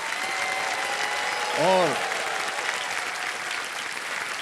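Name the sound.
studio audience applause on a quiz show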